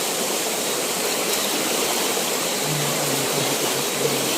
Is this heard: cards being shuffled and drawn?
no